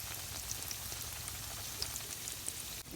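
Pitha cakes sizzling in hot oil, a steady soft crackle and bubbling with scattered small pops, close and fairly quiet, with no talking.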